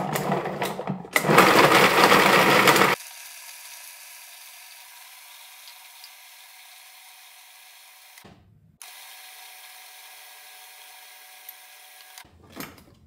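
A food processor pulses parmesan cheese for pesto, a short loud grinding burst followed by long steady motor whirring that briefly stops and restarts, with no voices over it.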